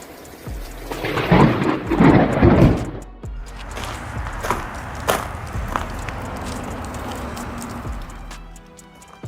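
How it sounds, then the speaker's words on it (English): A thunderstorm in Kentucky sends a loud rolling rumble of thunder that swells and then fades. Steady rain hisses beneath it and a few sharper cracks break through, with no one talking. "The thunderstorm in Kentucky exploded with powerful lightning, turning the sky into a stage of powerful rays of light."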